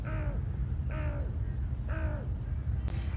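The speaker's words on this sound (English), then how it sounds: "There's just so many crows around me" Crows calling during a winter walk outdoors: three clear, evenly spaced caws, fairly close, over steady low rumble of wind or traffic, no talking.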